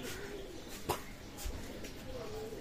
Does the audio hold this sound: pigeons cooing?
yes